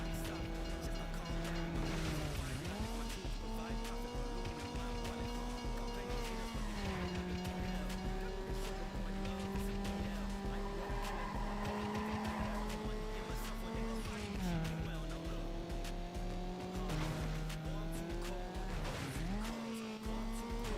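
A video game racing car engine drones steadily, dipping in pitch several times as tires screech and skid through turns, with no voices.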